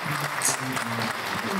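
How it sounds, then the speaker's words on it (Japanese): Audience applause welcoming Super Formula development drivers on stage at an event at Lexus Meets Hibiya, steady clapping from a crowd filling the whole moment. "どうぞ拍手でお迎えください。"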